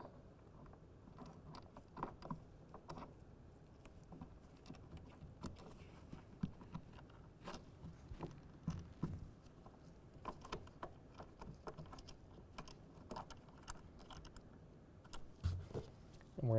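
A ratchet tightens the clamp bolt on a RealTruck UnderCover Ultra Flex hard folding tonneau cover, giving a long series of faint, irregular clicks and small clatters close by.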